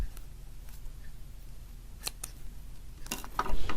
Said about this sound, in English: we just take our little snips. Snip that off.